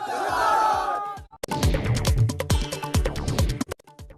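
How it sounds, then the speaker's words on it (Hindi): A dense, loud crowd of supporters protesting near Charminar in Hyderabad against firing on Asaduddin Owaisi, with overlapping shouts and chanting that surge after a brief lull and stay heavy throughout. "असदुद्दीन ओवैसी पर फायरिंग के खिलाफ हैदराबाद में समर्थकों ने प्रदर्शन किया। चार मीनार के पास भारी भीड़ जुटी।"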